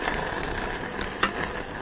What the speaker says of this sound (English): You can hear that butter starting to sizzle.